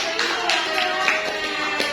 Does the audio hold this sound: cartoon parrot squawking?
no